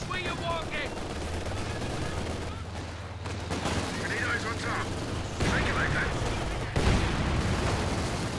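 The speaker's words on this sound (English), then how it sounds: "Big damage from the heavy barrage there." Heavy artillery barrage in Company of Heroes 2, a dense run of explosions and gunfire rumbling continuously with sharper bursts and impacts, loud and close with a low engine drone beneath.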